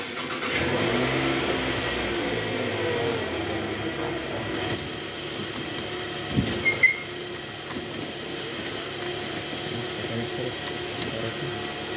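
A 2011 Toyota Vellfire ANH20 engine running at a raised idle, a steady mid-pitched hum with a few brief clunks midway, while people talk quietly nearby.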